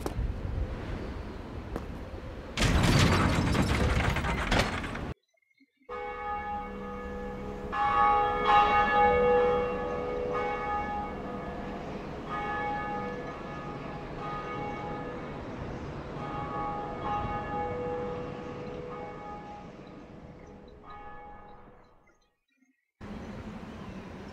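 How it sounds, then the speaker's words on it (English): The Bell of Awakening in Dark Souls tolls with loud, resonant metallic strikes whose ringing tones linger and slowly fade over many seconds, following a burst of noise at the start. "After ringing that first bell of awakening"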